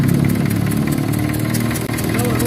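An Isuzu 4BA1 diesel engine idles with a leaking injector nozzle, a loud, close, steady mechanical clatter with a low throbbing rhythm and even knocking, running continuously without pause.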